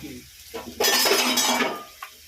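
Pieces of pork meat tipped into a pan of frying onions in a home kitchen, a burst of loud sizzling lasting under a second with a few clinks of utensil on metal around it.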